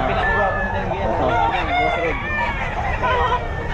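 Roosters crow at a busy pet market in Bocaue, where Boston-line fighting cocks are kept for sale; loud, drawn-out crowing rises over steady crowd noise and nearby talk.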